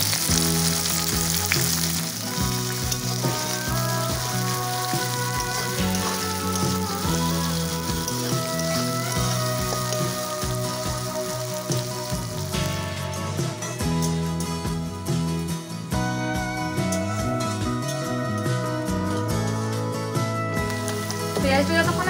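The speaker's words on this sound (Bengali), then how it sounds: "পেঁয়াজটা যতক্ষণে ভাজা হচ্ছে" Chopped onions frying in hot oil with dried red chillies, five-spice seeds and bay leaves for a brinjal pickle, giving a loud, steady sizzle with occasional stirring throughout.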